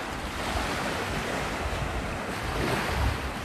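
Surf breaking and washing along Fort Myers Beach by an old pier, a steady broad wash of waves mixed with wind buffeting the microphone, continuous and fairly loud with no talk.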